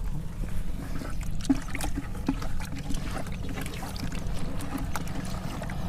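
Organic fertilizer being stirred into water, giving a steady low sloshing and swirling churn with small trickles and splashes throughout, fairly close and continuous.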